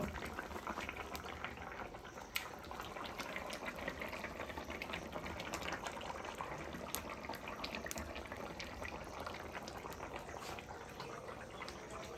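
Thin Bengali catla fish broth with potato and pointed gourd bubbling steadily in a pot as fish goes in, a continuous close boiling and simmering wash with no talk.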